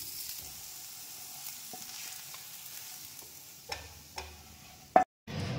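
Spiced potato filling for aloo kochuri is stirred in a frying pan, with a soft, low sizzle and a few sharp scraping knocks of the spoon near the end.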